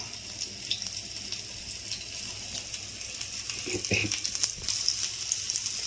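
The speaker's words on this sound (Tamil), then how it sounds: "இப்போ ஒன்று ஒன்றா எடுத்து எண்ணெயில் வைக்கிறேன்." Prawns frying in oil over a medium flame at home, giving a steady, soft sizzling hiss throughout with a few brief crackles and small clinks, no talking.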